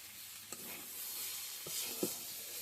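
Food sizzles quietly in oil in a pan on a home stove, with a few soft scraping stirs of the spoon punctuating the steady hiss.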